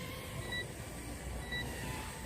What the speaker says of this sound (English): You hear my alarm going off. We hear the buzzer a little bit on this.